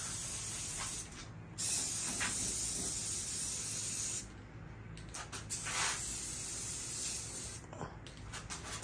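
Spray paint hisses from an aerosol can in repeated bursts, a loud broad hiss that stops and starts several times, heard up close.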